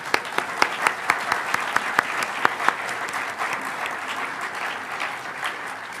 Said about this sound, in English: So let's have a round of applause for Bell Labs.